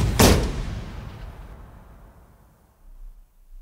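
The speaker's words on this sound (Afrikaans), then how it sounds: "Trek die skoot." A single sharp rifle shot cracks out during a waterbuck hunt in South Africa, loud and close, then fades into a long rolling echo over a quiet bush background.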